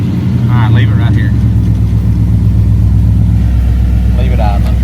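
1984 square body pickup truck engine idles loud and close with a steady low rumble, while people talk briefly over it.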